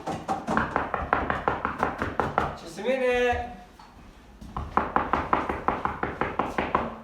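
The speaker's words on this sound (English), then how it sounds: "knocking on the door and ringing the doorbell" Knuckles rap on a front door in fast, even bursts of knocks, with a short tonal ring in the pause between them. One voice briefly calls out close by.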